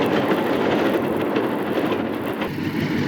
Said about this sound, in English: There comes the humper shoving up the hump.